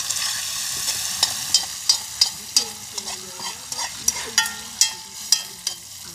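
Fish sizzling in a frying pan for Jamaican-style cooking, a steady crackling fry broken by a series of sharp, regular clinks and scrapes from stirring, close and clear with no talking.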